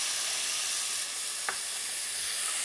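Caponata relish with vinegar and caster sugar sizzles steadily in a pan as a soft continuous hiss, with a single brief utensil tap partway through and no talking.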